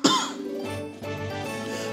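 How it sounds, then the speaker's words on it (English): A person coughs once, sharply and close, with a short throat-clearing rasp, while a Skyward Sword HD gameplay soundtrack plays steadily underneath. "I have to cough again."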